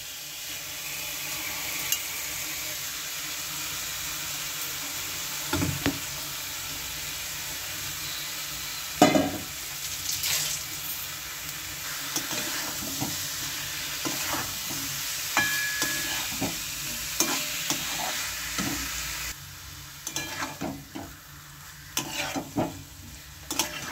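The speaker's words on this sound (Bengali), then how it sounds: "এখন দিয়ে দেব সেই ম্যারিনেট করা মাছগুলি" Marinated small fish frying in a pan with onion, green chili paste and red chili for a spicy fish jhaal, a steady close sizzle running throughout with occasional stirring scrapes and clinks.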